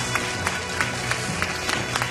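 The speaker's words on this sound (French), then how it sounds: "Et Fabien applaudit, et j'applaudis aussi." Applause from a studio audience on a French TV quiz show, steady dense clapping with light rhythmic accents, moderately loud and continuous throughout.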